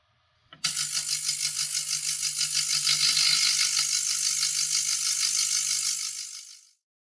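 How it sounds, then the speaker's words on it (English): An ultrasonic cleaner runs on parts from a 1950s Breguet Type XX watch, a loud, harsh, high-pitched buzzing hiss that switches on abruptly, holds steady for about six seconds, then cuts off. "the ultrasonic has a very unpleasant sound, not unlike scratching on the blackboard"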